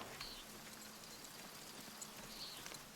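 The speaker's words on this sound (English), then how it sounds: "Look at this rain." Steady rainfall in the medieval adventure game Pentiment, a faint, even hiss of falling drops with soft patters, continuous throughout with no voices.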